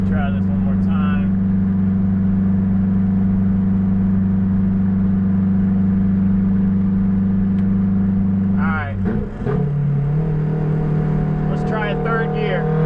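A turbocharged Honda Civic EP3 pulls hard on a highway, its loud steady engine drone holding a high pitch for about nine seconds before a gear change drops the revs and it builds again, with brief voices over it.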